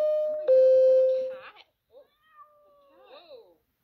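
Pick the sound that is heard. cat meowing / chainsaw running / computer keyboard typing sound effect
cat meowing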